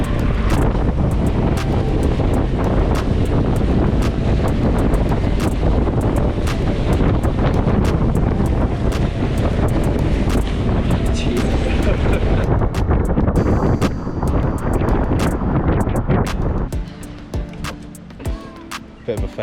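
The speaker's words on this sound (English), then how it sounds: "like the wind blocked it" Loud, constant wind buffets the microphone out on a lake in the Lake District during a boat outing, with broadband roaring gusts throughout that ease off near the end.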